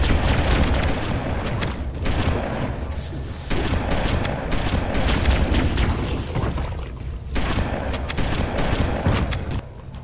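Dense, rapid gunfire in a Halo firefight on the Keyes level, with shotgun blasts mixed into a nearly continuous roar of loud, booming shots and bursts that lasts throughout.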